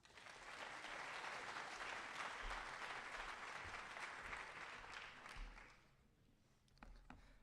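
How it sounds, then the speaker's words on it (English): An audience at the North Scott agricultural program spring banquet gives Nora a warm round of applause after a healthcare science award. The clapping is dense and even for several seconds, then tapers off, and a few scattered claps follow in the near-quiet. "Let's give Nora a round of applause."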